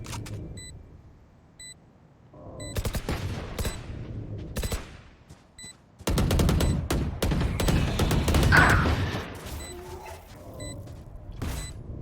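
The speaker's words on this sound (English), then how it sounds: "Nat tries blind firing into the smoke just in case" Rapid bursts of video game gunfire blind-fired into smoke: short clustered volleys early on, then a longer, louder stretch of sustained shooting, with mechanical clatter between bursts.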